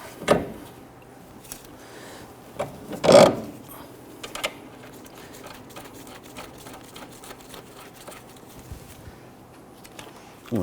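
Short bursts of ratchet clicking as bolts on a steering knuckle are snugged down on a 2011-2023 Dodge Charger, a few separate runs of clicks spread across a quiet shop background.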